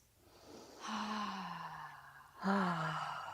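Two slow, deep breaths during a yoga session, each a soft, airy sigh-like exhale with a falling tone, close and quiet with a brief pause between them.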